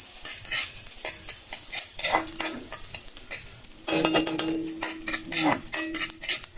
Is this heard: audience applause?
no